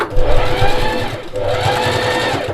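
A sewing machine stitching a fabric face mask, a loud close whirring motor with rapid needle chatter, running in two continuous bursts with a brief pause between them.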